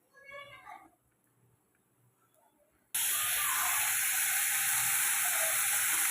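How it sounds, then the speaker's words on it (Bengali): Mushrooms drop into hot oil, and a faint rustle gives way to a sudden loud, dense frying hiss that holds steady for about three seconds, close and uninterrupted. "মাশরুমটা ভেজে নেব।"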